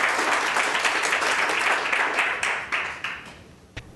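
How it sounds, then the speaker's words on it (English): Audience clapping at a city council meeting, a dense wash of applause that holds steady and then thins into scattered claps before fading out, with no talking. "the speakers can't hear because everyone's clapping"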